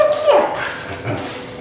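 Six-week-old Aussiedoodle puppies give close, high-pitched yips and whimpers, a thin whining cry rising and falling amid scattered yaps while they play indoors.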